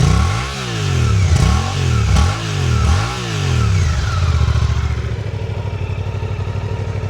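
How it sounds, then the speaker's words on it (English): A Suzuki GSX 8R motorcycle engine is revved close by in several rising and falling blips, then settles into a steady, throbbing idle. "Let's rev it up for a second. So you can kind of hear the sound there."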